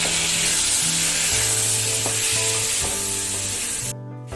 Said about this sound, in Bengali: আমটা একটু নাড়াচাড়া করে নিয়েছি